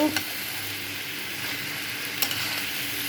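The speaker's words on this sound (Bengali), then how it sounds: "দেখেন আমি এভাবে কষাইতেছি কষানো" Rooster curry stir-fried in a pan hisses in a steady sizzle, with a couple of sharp spoon scrapes standing out up close.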